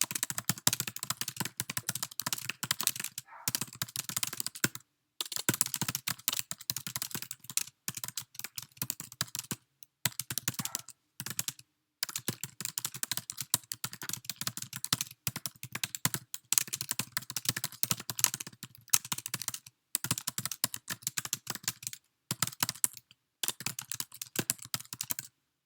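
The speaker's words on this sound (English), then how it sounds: "So I'm going to go ahead and type an example of a thorough note." Note typed on a computer keyboard, with rapid continuous key clicks in bursts separated by brief pauses, close and clear, with no talking.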